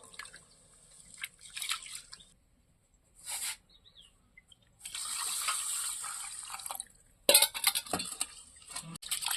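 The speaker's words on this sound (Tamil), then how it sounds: "தண்ணி நல்லா ஊற்றி ரெண்டு தடவை கழுவி எடுத்துக்கலாம்" Water is poured and splashed to rinse food twice in a home kitchen, in several separate bursts of pouring and dripping broken by short quiet pauses, with no talk.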